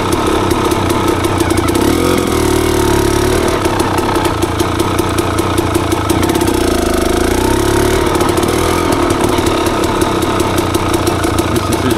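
A motorcycle engine runs at low speed during slow riding practice, a loud steady chugging drone with slight rises and dips in revs and no talk.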